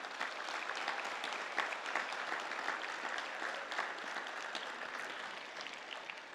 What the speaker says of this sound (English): Guests and graduates, let's give them a huge round of applause one more time.